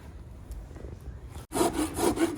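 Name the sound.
rasp filing the bevel of a horse's hoof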